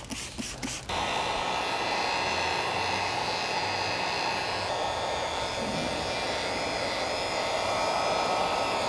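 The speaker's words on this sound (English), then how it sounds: "To seal the edges, we're just going to apply tack solution and heat" A heat gun seals the edges of tint film on a Kia Telluride taillight, blowing a loud, steady hot-air whoosh up close that runs continuously after a few brief stutters at the start.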